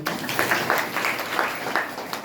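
Audience members clap at a gathering, a steady, moderately loud patter of many hands with rhythmic accents, continuous throughout the short stretch.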